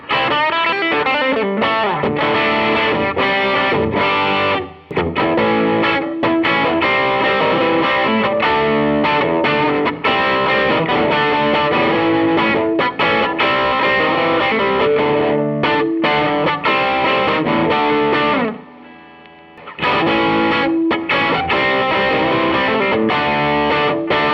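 Electric guitar played through an Analogman King of Tone overdrive pedal, heavily driven and sustained, with chords and riffs ringing loudly and continuously, broken by two short pauses.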